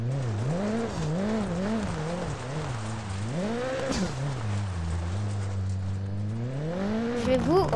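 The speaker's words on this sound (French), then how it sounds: "Je vais vous relaisser avec les bruits de la voiture" Rally car engine in Dirt Rally 2.0 revving up and down through gear changes, with tire noise and gravel rumble beneath; the engine note rises and falls repeatedly and is heard alone, fairly loud.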